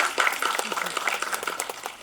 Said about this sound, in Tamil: நல்லா கைதட்டுக்கலாம் ஒரு தடவை.